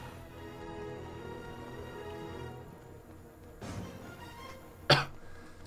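A single short, sharp cough bursts out near the end, loud and close, following a steady background of game music and ambient noise.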